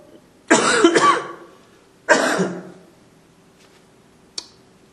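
A person with a chest cold coughs in two harsh, close bursts, followed by a short click, with quiet room tone between them.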